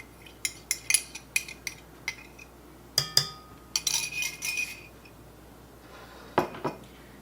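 A spoon clinks and scrapes against a bowl while yeast mixture is stirred into other ingredients, giving a run of sharp, close taps followed by a brief, rougher stretch of mixing.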